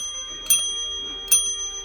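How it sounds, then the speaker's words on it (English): Two bright rings of a bell about a second apart, clear and close, over a faint steady tonal background hum. "I'm gonna just ring the bell here."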